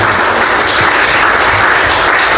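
Dense, loud applause from a church congregation giving thanks to God, a steady wash of many hands clapping close by with no speech.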